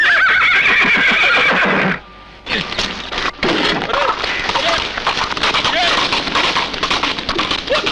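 A horse whinnies loudly in a Hindi film scene, then after a short pause its hooves and movement carry on under background music and other sound effects as it runs off.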